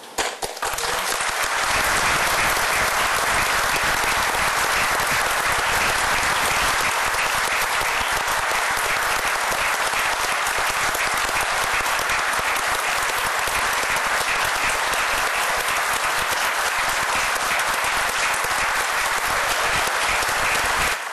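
Sustained, dense applause in a Federal Supreme Court chamber as a new minister is led to his seat, a continuous roar of clapping holding steady for over twenty seconds.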